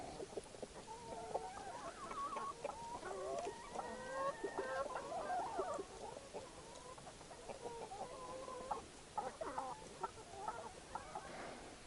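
Several hens cluck and chatter nearby while eating, in a steady, busy stream of short calls, with soft pecking and rustling underneath.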